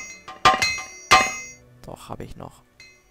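Hammer repair strikes in the video game Morrowind, two sharp metallic clinks about half a second apart, followed by someone talking.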